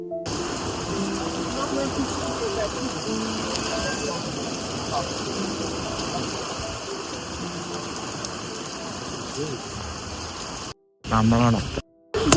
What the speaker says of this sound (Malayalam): അല്ലാതെ രക്ഷയില്ല, ഭയങ്കര മഴയാണ്